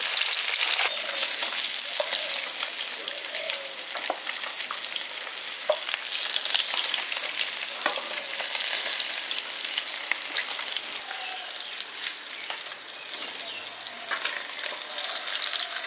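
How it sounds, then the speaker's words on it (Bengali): Pabda fish, being prepared for a mustard pabda dish, fry in hot oil in a pan with a loud, steady sizzle and scattered spattering pops throughout, with no talking. "বাকি যে মাছটা পড়ে আছে ওটা ভেজে নিচ্ছি"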